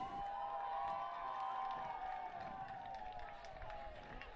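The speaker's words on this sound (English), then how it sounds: "Big cheer" A steady crowd cheer rises over the water at the Aon Maadi Cup 2021 rowing regatta finals, heard from a distance as a continuous roar with faint whistles and clapping.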